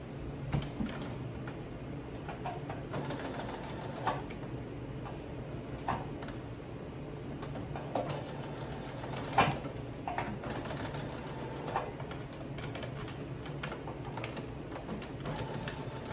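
A sewing machine runs in a quiet room, stitching two fabric pieces together with a soft continuous whir broken by repeated small clicks and ticks.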